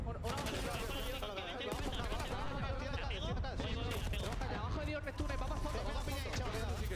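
Continuous rapid gunfire from a competitive Call of Duty championship match rattles on throughout, dense and loud, while excited commentators talk over it.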